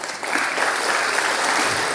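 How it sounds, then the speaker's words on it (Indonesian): Audience applauding at a public talk by an Indonesian housing minister, steady dense clapping filling the room at close range for the whole stretch, with no voices standing out. "Pak, tepuk tangan dong Pak Budiarsa."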